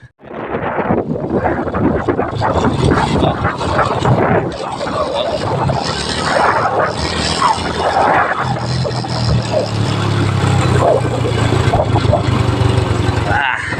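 A semi-automatic underbone motorcycle, an XRM, rides along with a faulty primary clutch making it jerk, its engine droning continuously under heavy wind noise throughout.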